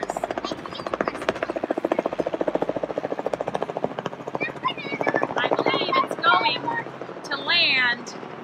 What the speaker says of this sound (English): And above us are helicopters.